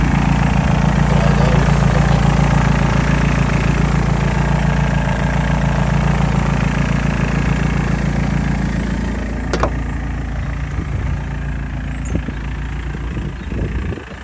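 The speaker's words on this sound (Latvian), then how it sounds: "Es vienkārši motoriņu parādīšu." A small motor runs steadily with a loud, constant low hum and drone, easing slightly in level after a sharp click partway through, with some faint rattles toward the end.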